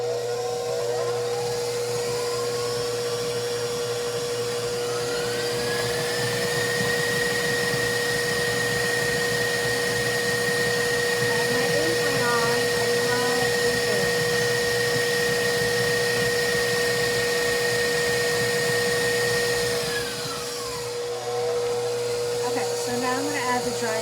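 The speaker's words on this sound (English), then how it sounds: "You don't have to do this with a stand mixer." A stand mixer runs steadily close by, a loud continuous motor whine with a strong steady hum beneath it, rising in pitch as it speeds up and dropping back near the end.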